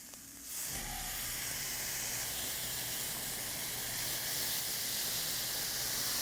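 Tomatoes hit a hot pan and a loud, steady sizzling hiss starts suddenly, then keeps going evenly while the pan cooks.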